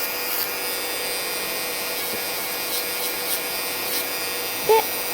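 A cheap electric nail machine files gel polish off at the base of a fingernail, giving a steady, thin motor whine with a soft grinding rasp and one brief knock near the end.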